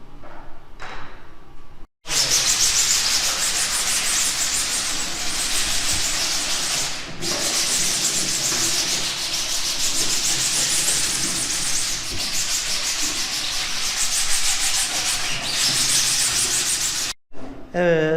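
Steady, close abrasive hissing of sanding on a wooden RC model boat hull runs almost nonstop for about fifteen seconds, with a couple of brief dips and a short pause near the end.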